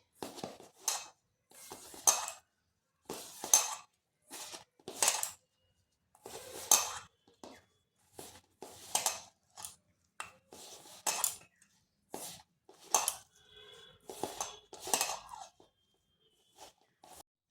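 Cauliflower being mixed with turmeric, chili, cumin, coriander and garam masala in a bowl, heard as a string of short, irregular clinks and scrapes of utensil against the bowl, fairly close and quiet, with no talking.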